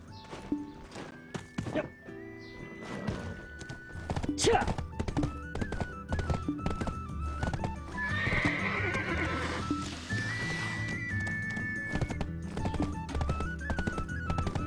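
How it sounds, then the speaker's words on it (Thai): A horse in the online game Black Desert Online gallops with steady clip-clop hoofbeats and gives a loud neigh midway, mixed with game sounds and background music. "แต่วิ่งเร็วขึ้นนะม้าตัวใหม่นี้"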